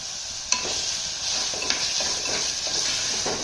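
Bottle gourd kurma vegetables with capsicum fry in a pan, giving a steady bright sizzle broken by a few sharp clinks and scrapes of a spoon stirring against the metal, close and continuous.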